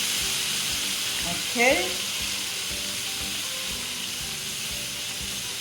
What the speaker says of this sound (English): I have my pot already warmed up. I put some butter at the bottom.